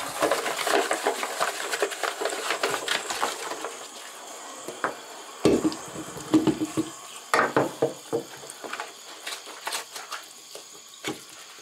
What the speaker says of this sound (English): and wash it with soap and water.